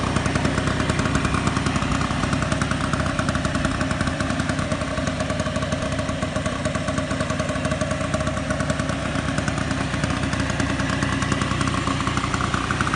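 A 1959 Piaggio Vespa scooter engine runs close by at a steady, buzzing idle with a dense mechanical clatter throughout and no talking.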